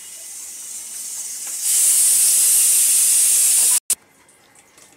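A pressure cooker whistle shrieks loudly while steam hisses out, rising suddenly into a sustained high-pitched blast that cuts off abruptly near the end, followed by quieter kitchen noise.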